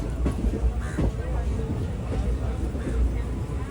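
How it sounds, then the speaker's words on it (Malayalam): A train pulls into Arakkonam Junction, a steady low rumble and rattle that stays fairly constant and muffled throughout. "ട്രെയിൻ ഇപ്പോൾ അറക്കോണം ജംഗ്ഷനിലെത്തി."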